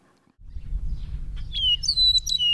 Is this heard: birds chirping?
yes